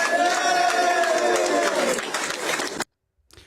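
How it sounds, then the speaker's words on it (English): Crowd at a parliamentary election result declaration for Runcorn and Helsby erupting into loud booing and jeering, sustained for nearly three seconds before cutting off abruptly, then a faint trailing noise. "Did I hear some booing"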